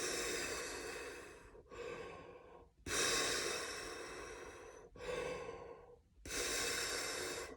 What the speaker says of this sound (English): Breathing in through your nose, and then out through your mouth.